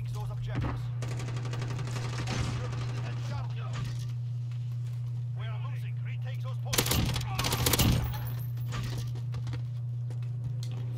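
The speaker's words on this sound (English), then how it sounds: "And then you just shoot it? Yep, just shoot it once." Gunfire in the Call of Duty video game sounds as bursts of shots over a steady electronic hum, with a louder cluster of shots near the end and voices talking throughout.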